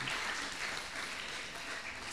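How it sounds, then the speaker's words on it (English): A live audience applauds a guest, Amrit Irani, at the MbYAS 2016 talks event, giving steady, dense clapping that holds at an even, fairly soft level for about two seconds with no voices over it. "Let's have a big round of applause for her."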